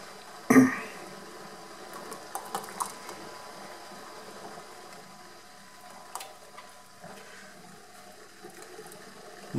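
Jam jar lids simmer in a pot of water on the stove. A loud clank comes first, then faint, scattered bubbling pops under a low steady hiss, with no talk.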